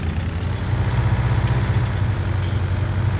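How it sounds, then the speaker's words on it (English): An old tractor engine idles in Farming Simulator 19 with a steady low rumble and chugging throb, close and loud, running alone without talk. "That's what the tractor looks like. It sounds pretty nice."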